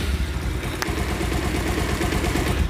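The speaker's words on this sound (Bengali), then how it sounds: "চলুন আগে আপনারা ইঞ্জিনের সাউন্ড শুনবেন" A Bajaj Pulsar motorcycle engine, a bike with a hissing and rattling fault, runs at a steady idle close by: a continuous low, throbbing rumble with an even pulse and no talking.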